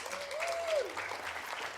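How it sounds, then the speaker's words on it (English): Audience applause greeting a guest speaker being introduced, a brief burst of clapping with a voice speaking over it partway through. "give her a round of applause"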